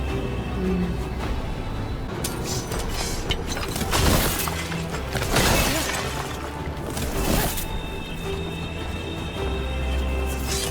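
Ice manifestations of despair spirits shattering in Dragon Age: The Veilguard, several bright crackling bursts over a steady game ambience, loud and close, with no speech.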